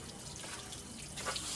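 Tap water runs steadily and faintly at home, a soft continuous splash with no talk over it.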